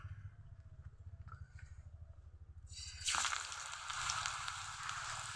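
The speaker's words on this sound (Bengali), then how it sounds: "এখন একটি করে বল নিয়ে আমি এই যে ময়দার গোলাটা রেখেছিলাম এটাতে ডুবিয়ে আমি তেলের মধ্যে দিয়ে দিব" Flour-coated chicken bread balls drop into hot oil, setting off a loud, steady sizzle that bursts up and keeps bubbling alongside a low background hum.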